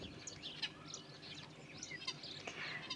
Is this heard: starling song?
yes